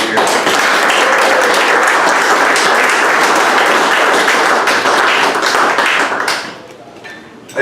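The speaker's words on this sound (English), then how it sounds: "how about we give all the salespeople a round of applause for having a great year." A large audience at a sales event claps for the salespeople, loud and dense close-up applause that holds steady and then drops off sharply near the end, leaving a quieter murmur.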